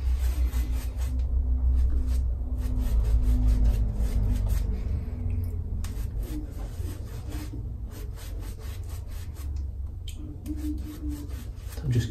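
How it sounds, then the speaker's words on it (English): A synthetic shaving brush works Noble Otter shaving soap into lather, a soft, wet, close swishing and rubbing that runs steadily throughout with faint rhythmic strokes. "I'm going to try my synthetic way of lathering with this brush and just see how it goes"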